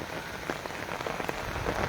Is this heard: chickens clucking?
no